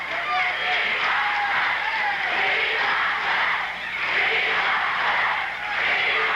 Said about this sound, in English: The crowd very vocal in their backing.